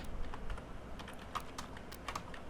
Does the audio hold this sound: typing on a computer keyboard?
yes